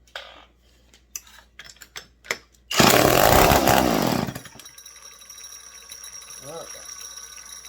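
Old Mac 10-10 chainsaw with suspected carburetor or fuel trouble, briefly started: a loud burst of engine roar lasting about a second and a half, then dying back to quieter running and handling noise.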